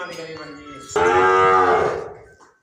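A Cholistani cow lets out a single loud, drawn-out moo that swells and then fades, following a softer lowing sound, close by with no voices.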